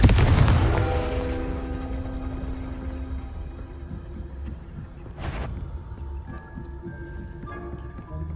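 A Confringo spell blast in the Hogwarts Legacy video game: a heavy booming impact that decays into a long rumbling tail, followed by a second sharp crack midway, with game sounds ringing on afterward.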